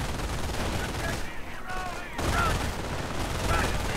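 An MG 42 heavy machine gun fires in a strategy video game amid a dense battle, with rapid bursts and scattered gunfire over continuous combat noise, while a commentator talks over the action.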